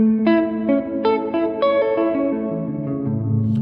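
Electric guitar played through a UAFX compact reverb pedal with pre-delay, a short run of plucked notes whose clear attacks are followed by a lush, sustained reverb tail that keeps ringing beneath each new note.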